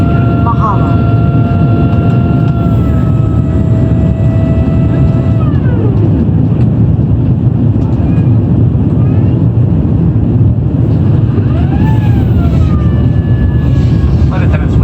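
Airplane cabin on landing approach to Lihue Airport on Kaua'i, with a loud continuous low rumble of jet engines and airflow filling the space, tonal engine whines sliding in pitch as power changes.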